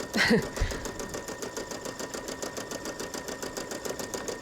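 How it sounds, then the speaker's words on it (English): An embroidery sewing machine stitches on tulle, its needle running in a steady, fast rhythmic patter close by, with a brief louder clunk near the start and a faint hum beneath. "So what I'm doing is I'm stitching on the twill, or not on the twill, on the tulle."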